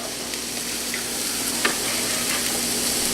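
Peppers hit a hot pan for an orzo pasta dish and sizzle steadily, a loud continuous hiss with faint crackles and no talking.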